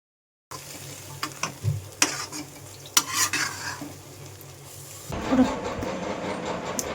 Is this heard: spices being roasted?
yes